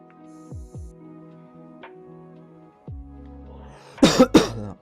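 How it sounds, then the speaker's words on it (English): Two sharp coughs in quick succession near the end, close and loud, following a stretch of quiet with faint low tones and small clicks. "I just got done coughing off that"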